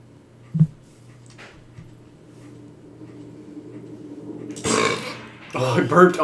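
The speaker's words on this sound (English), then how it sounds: "Burped on time with that." A single short, loud burp erupts close to the mic early on, followed by a low steady hum and rising bursts of noise later.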